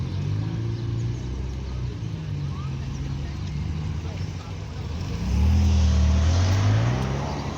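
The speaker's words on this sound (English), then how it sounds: "There goes the Porsche, that's a Cayman S." Porsche Cayman S driving past at a classic car meet outside an inn, a rising engine drone that swells louder as it passes, over crowd chatter and background rumble.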